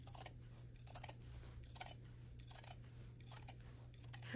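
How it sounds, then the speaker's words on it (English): Scissors snip along the edge of a finished Stars and X's quilt as it is trimmed. The cuts come as a quiet, steady run of crisp closes, about one every second, with no talking. "I just use scissors to trim my quilt. So I just start at an edge and then just cut across the whole side."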